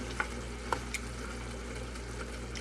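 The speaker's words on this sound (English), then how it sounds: "I throw it on low heat and just let it simmer here." A spicy seafood sauce bubbles gently over low heat, a soft continuous sizzle and simmer with a few faint clicks near the start.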